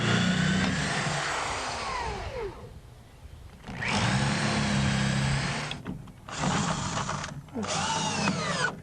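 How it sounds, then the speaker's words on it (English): A power drill with a 1/4 inch bit pre-drills wood for lag screws in several bursts, each whining up in pitch then cutting off, with short pauses between and faint voices in the background. "pre-drill using a 1/4 inch drill bit, and then we'll just anchor them down"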